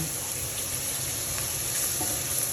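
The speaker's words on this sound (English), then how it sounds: "your mushrooms are already beginning to caramelize slightly" Mushrooms and leeks sizzling in fat in a hot pan, a close, steady hiss with light crackling throughout.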